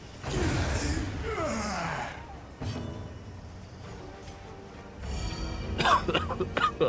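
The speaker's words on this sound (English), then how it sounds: "Sorry, excuse the coughing, guys." A person coughs and clears their throat close to the microphone during a Darkest Dungeon 2 gaming session, several rough bursts with gasping breaths, partly mixed with game sounds and muffled voice.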